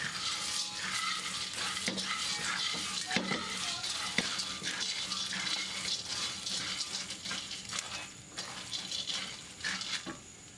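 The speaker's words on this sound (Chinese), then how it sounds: "然后倒入刚才炸过的花生米进去翻炒。" Previously fried peanuts being stir-fried with Sichuan pepper and chili in a wok: a continuous close sizzle with repeated scraping and tossing strokes of the spatula, some sharp knocks against the metal, no speech.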